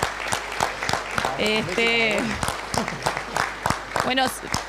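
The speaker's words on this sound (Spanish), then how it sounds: "un aplauso para Carlos y sus anécdotas" Scattered audience clapping at an anniversary ceremony, sharp individual claps spaced unevenly while voices talk over them.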